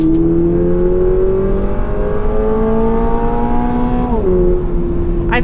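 A 2022 Toyota GR86 engine with a manual transmission drones steadily and loud from inside the cabin, its pitch climbing slowly, then a quick blip on the downshift jumps and settles at a new steady note, with no talk.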